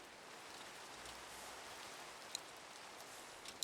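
Soft, steady rainfall in a video game, a faint even hiss with a couple of tiny drip-like ticks near the end.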